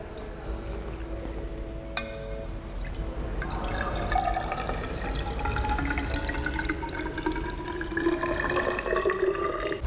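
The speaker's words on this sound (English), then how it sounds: "We now take 500 milliliters measuring cylinder and pour water up to" Water is poured into a 500 millilitre measuring cylinder up to 400 millilitres, a faint thin trickle that rises in pitch as the cylinder fills, following a few soft drips.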